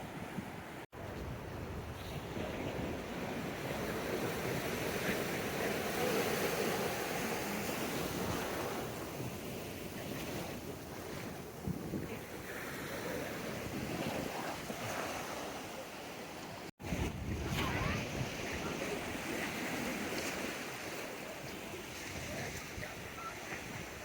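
Steady surf rolls and washes continuously onto a beach near Aghanashini over a windy outdoor background, with a brief cut partway through.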